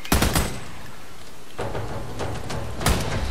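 Gunfire at a bridge in the video game Army of Two comes in loud, close bursts of rapid shots, separated by a brief lull and a steady rumbling background, with no talk.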